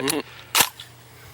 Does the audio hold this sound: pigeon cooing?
no